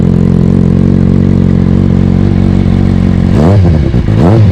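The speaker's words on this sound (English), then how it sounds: "It's got a carbon MIV slip-on exhaust." A Kawasaki Ninja motorcycle fitted with a carbon MIV slip-on exhaust idles loud and close with a deep, steady rumble, then revs sharply twice near the end.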